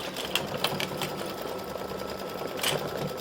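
An embroidery machine stitches the pant legs of an appliquéd St Patrick's Day gnome design, giving a quick, steady mechanical needle patter nearby with a few louder taps.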